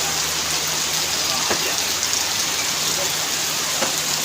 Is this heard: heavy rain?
yes